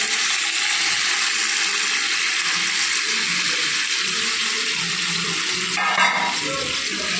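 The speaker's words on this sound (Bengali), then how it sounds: "এবার আমি এর মধ্যে গরম জল অ্যাড করে দিচ্ছি।" Hot water pours into a pan of cauliflower curry, giving a steady, loud hiss and sizzle that runs on without a break, close by, with a brief clatter near the end.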